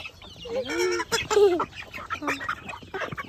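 Backyard chickens and chicks waiting to be fed coconut pulp cluck and squawk close by in a busy, overlapping chorus.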